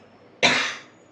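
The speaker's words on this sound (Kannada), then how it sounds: "ಕೆಮ್ಮು ಹೋಗ್ಲಿ ಇನ್ನೇನು ಮಾಡ್ತೀನಿ" A single sharp cough, close and fairly loud, with a sudden onset that fades over about half a second, from someone with a sore, irritated throat indoors.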